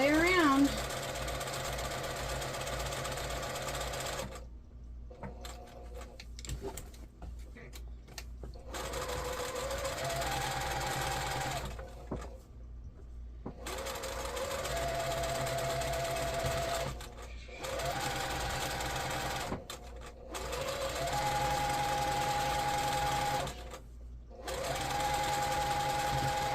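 A sewing machine stitches around the edge of a fabric placemat in long, steady mechanical runs broken by short pauses, close and loud throughout.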